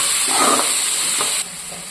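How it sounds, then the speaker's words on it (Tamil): Broad beans with onion and turmeric sautéing in hot oil, a loud close hiss and sizzle that drops in level partway through the short stretch. "காயில் மஞ்சத்தூள் சேர்த்துட்டு நல்லா வதக்கி விட்டுக்கணும்"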